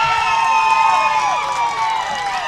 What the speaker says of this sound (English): Hawaii crowd is very excited